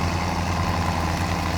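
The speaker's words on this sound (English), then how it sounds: "The tractor is fighting the weight." A tractor engine in Farming Simulator 17 labours uphill under a heavy load, a loud, steady low drone with a dense mechanical hum and no break.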